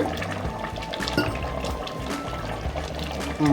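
Water splashes and pours into a cooking pot on the stove while a goat head-and-trotter curry simmers, a continuous close sloshing stream.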